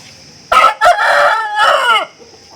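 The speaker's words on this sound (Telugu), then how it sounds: "పుంజులు లైవ్లో చాలా అంటే చాలా బాగున్నాయండి" A Salem, Tamil Nadu rooster, a heavy kakidaka-coloured bird of about 3.5 to 4 kg, crows twice at close range, loud and drawn out, with quiet background between the calls.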